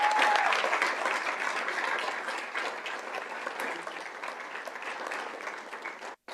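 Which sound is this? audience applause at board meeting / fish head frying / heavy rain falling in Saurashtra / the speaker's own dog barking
audience applause at board meeting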